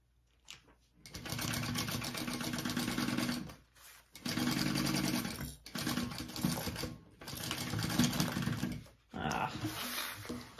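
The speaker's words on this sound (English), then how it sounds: "I'm just sewing up this pocket." A sewing machine stitches up a pocket, running in four fast, rattling bursts of a few seconds each, split by brief pauses. It is close and clear, with no talking over it.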